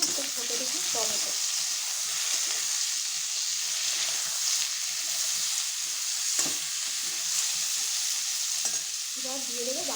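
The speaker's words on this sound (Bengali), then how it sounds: "সবজিগুলো ভাজা ভাজা হয়ে গেছে, মানে অল্প, খুব একটা ভাজিনি। এবারে এর মধ্যে দিয়ে দিলাম একটা ছোটো দেখি টমেটো।" Lightly fried vegetables with a small tomato sizzle in a pan, a steady close frying hiss broken by scraping stir strokes and a couple of soft knocks, with no voices.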